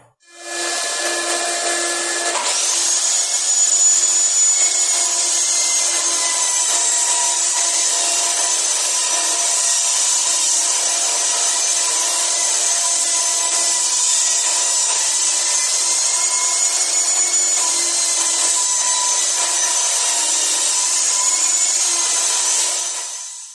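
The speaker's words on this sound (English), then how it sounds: "I'm going to cut a bevel in each side of these rails" A saw cuts bevels into wooden rails for a farmhouse-style blanket ladder, a loud, continuous, even rasping drone that starts after a brief pause and runs steadily for over twenty seconds, close up.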